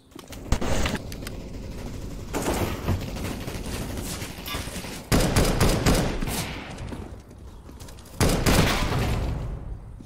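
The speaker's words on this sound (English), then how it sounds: "Stop shooting me!" Gunfire in a shooter video game: several loud bursts of rapid shots separated by short lulls, each volley sharp and close, with no voices over them.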